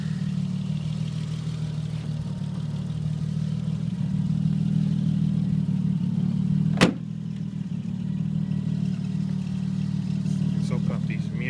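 A 1991 BMW 325ix all-wheel-drive sedan's engine drones steadily from inside the car on a test drive, a low continuous hum with a single sharp click or thump midway.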